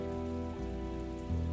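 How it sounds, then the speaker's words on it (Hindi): Steady rain pours down, a dense continuous hiss of drops on a surface, fairly loud throughout and heard alone beneath a sustained low tonal hum. "अब बारिश रुकने का इंतजार तो करना पड़ेगा ना"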